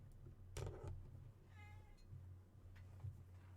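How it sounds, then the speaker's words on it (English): Cosmo, a pet cat, gives a soft, distant meow in a quiet room, faint against low background hum. "Can you hear my cat?"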